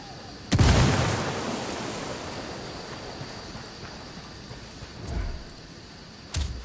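A frag grenade detonates in Ghost Recon Wildlands with a loud, close boom at the start, followed by two smaller blasts later on. Faint voices are heard between the explosions.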